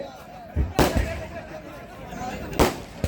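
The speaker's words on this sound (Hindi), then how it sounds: "यहाँ तो आतिशबाजी चल रही है" Fireworks bursting near a kabaddi semifinal match ground, a few sharp loud cracks spaced irregularly over a steady crowd murmur.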